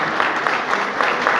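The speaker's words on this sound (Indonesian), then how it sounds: "Tepuk tangan." Crowd at a basketball team celebration at a city hall breaks into loud, steady applause, many hands clapping together close by with no pauses.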